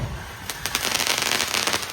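Diwali fireworks crackle and pop in quick rapid bursts, loud and close, a dense run of sharp cracks lasting a couple of seconds with no speech.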